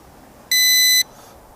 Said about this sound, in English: That transmitter beeped.